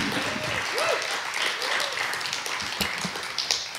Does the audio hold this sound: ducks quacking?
no